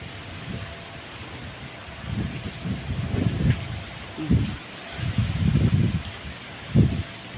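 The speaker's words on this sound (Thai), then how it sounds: "ลมมาแล้วจ้า" Strong gusty wind before a storm rustles through leaves in uneven surges, rising and falling in several bursts over steady background hiss, moderately loud and outdoors.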